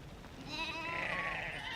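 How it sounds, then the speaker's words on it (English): A single goat bleats in a long wavering cry as cattle and goats are let out to graze on dusty former grassland, heard at moderate distance over faint background noise. "Every morning, his cattle and goats are let out to graze."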